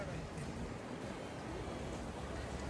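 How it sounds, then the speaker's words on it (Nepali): Steady rushing water from a river in Switzerland fills the whole stretch, a broad constant wash with some wind rumble and no clear voices. "यहाँको खोला यो प्रकारको छ"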